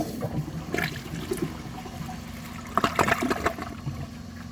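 A 2004 Crane Sureflush toilet flushes a wet grocery bag, with gurgling water and a rushing surge midway, then trickling refill, close and moderately loud with no speech.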